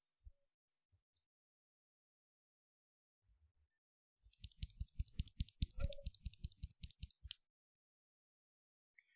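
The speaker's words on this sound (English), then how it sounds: "The key switch being a clicky one, so all you would hear is an extremely loud click noise every time you think." Clicky mechanical keyboard switches clatter in a fast, dense burst of sharp, loud clicks lasting about three seconds, preceded by a few isolated taps, with no talking.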